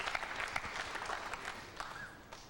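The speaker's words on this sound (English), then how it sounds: "And they're applauding Reyes" Audience applause at the 2000 World 9-ball Championship pool match between Efren Reyes and Steve Davis, a steady wash of clapping held at an even, moderate level throughout, with a few sharper individual claps standing out.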